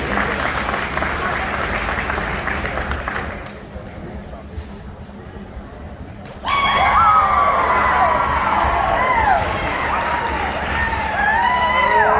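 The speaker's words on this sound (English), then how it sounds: "Let's give these kids one more round of applause." Crowd applauding and cheering for kids at a livestock auction, a dense roar that dips briefly and then returns louder with shouts and whoops mixed in, while a voice talks over it.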